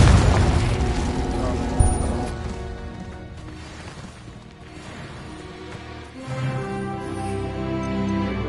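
Spell explosions from Confringo and Incendio in Hogwarts Legacy: loud booming blasts with rumbling decay, the biggest at the start and another near the end, alongside other game effects.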